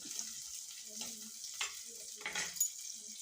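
Grated coconut roasts in a pan with a faint, thin hiss, quiet and continuous, with soft stirring scrapes and a few murmured voice fragments.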